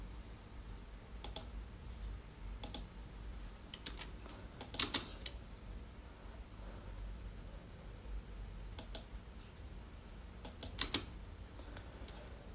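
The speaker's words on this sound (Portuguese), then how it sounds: "dou um clique aqui, aperto Enter" Sparse, sharp clicks from a computer mouse and keyboard, including an Enter key press, while working in PE Design embroidery software. Single clicks and small pairs fall every second or two over a low steady room hum, close and fairly quiet, with no talking.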